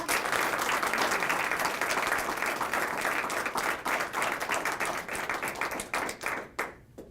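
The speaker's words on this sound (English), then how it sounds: "We would like to give you a hearty round of applause" An audience at a disability-friendly award event gives a hearty round of applause, dense sustained clapping from many hands that carries steadily for several seconds before tapering off at the end.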